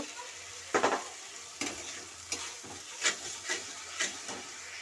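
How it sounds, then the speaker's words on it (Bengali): Potatoes being stirred and sautéed in a pan for a spicy fish curry, with a steady frying sizzle and a few separate scraping strokes of the spoon, close by and moderately loud, without any talk. "আমার আলুগুলো নাড়া হয়ে গেছে"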